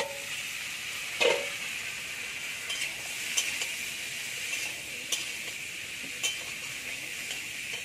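Pumpkin, raw banana and papaya go into a hot pan with already-fried coconut and potato, producing a faint, steady sizzle broken by a few light clinks and stirring taps.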